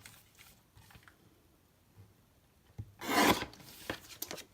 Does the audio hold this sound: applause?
no